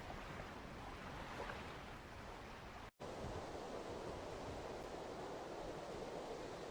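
Ocean waves roll steadily around a sailing ship in the video game Tales of Berseria, a continuous broad wash of surf and wind that cuts out for an instant before resuming, with no voices.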